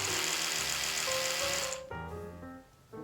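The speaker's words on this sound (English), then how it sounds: "the sound is a little bit louder on the Oral-B" A high electric buzzing hum from Sonicare and Oral-B electric toothbrushes, steady and close, that shifts pitch and then cuts out near the end; the Oral-B is slightly louder.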